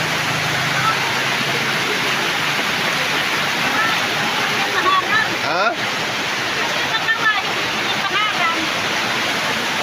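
Floodwater rushing steadily during heavy rain, a loud continuous roar of water that fills the scene, with a few brief voices speaking over it.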